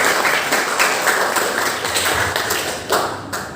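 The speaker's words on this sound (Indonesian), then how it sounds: "Berikan tepuk tangan yang meriah untuk pasangan nomor" An audience applauds a candidate pair at a school student council election: steady, dense clapping from many hands, loud and continuous throughout.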